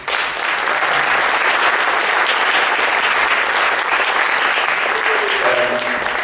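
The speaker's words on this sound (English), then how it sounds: "So your applause for them, please." A jazz festival audience at UNLV claps steadily, a dense, loud burst of applause sustained throughout from many hands, close and full, with no speech over it.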